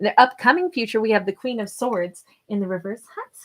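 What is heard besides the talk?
None of the usual background noises is heard.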